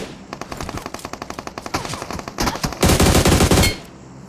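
Rapid automatic gunfire in a shooting video game, a loud rattling burst that builds into a dense continuous volley before cutting off, with no talk.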